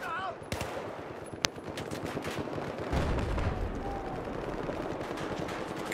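Dense machine-gun fire and gunshots in the video game Battlefield 4, rapid continuous bursts with occasional sharper cracks, moderately loud against a constant battle din.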